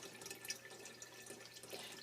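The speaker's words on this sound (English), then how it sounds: "liquid is draining right back into the reservoir" Bleach water trickles and drips steadily off a Fuji FP-100C instant film negative back into a reservoir, a faint continuous liquid patter with small splashes, heard close and alone.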